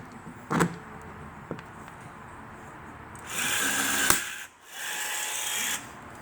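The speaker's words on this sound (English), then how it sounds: "And my Milwaukee rivet gun. Mm-hmm. Pressing in." A cordless Milwaukee rivet gun presses a rivet into a side marker light, producing a steady mechanical whir for about a second, a brief dip, then another whir, after a couple of faint knocks.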